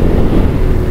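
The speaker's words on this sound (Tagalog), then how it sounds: "napakalakas ng hangin" A brief, loud blast of strong wind buffeting the microphone during a motorcycle top-speed run, a dense low roar and rumble with no voices.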